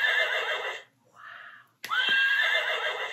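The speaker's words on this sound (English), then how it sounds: "Touch the horse's mane to hear her neigh." A mare whinnies twice, loud and close, with a long shrill neigh, a short pause, a softer snort, then a second long neigh.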